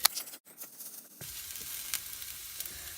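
Vegetables and onions sizzle in a 6-inch XYY mini skillet, a steady close frying hiss that steps up in volume after a short quieter start with a few soft clicks.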